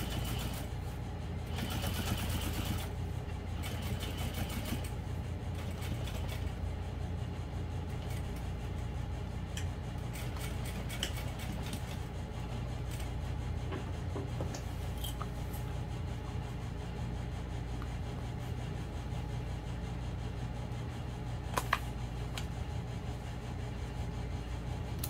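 A sewing machine stitches a vinyl and waterproof canvas knapsack, making faint, intermittent whirring runs with small clicks between them, low and steady in the background.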